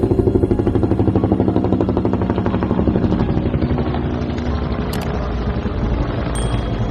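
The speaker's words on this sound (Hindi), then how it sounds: "बाबा हेलीकॉप्टर लेकर येल्लू और मल्लू के घर पहुंच जाते हैं" A cartoon helicopter throbs loudly nearby as it arrives at a house, its rotor thumping in a fast, steady rhythm, with a couple of faint metallic clinks toward the end.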